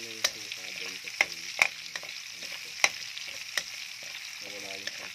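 Onions sauté in a hot frying pan, a steady close sizzle broken by several sharp clinks of a utensil stirring against the pan.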